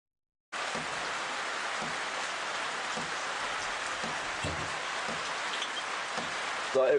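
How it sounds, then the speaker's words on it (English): Steady rain falling at Djuma Game Reserve during a morning safari drive, a constant dense hiss of drops on surfaces starting abruptly and continuing evenly, with occasional louder drips close by. "wait for this rain to stop"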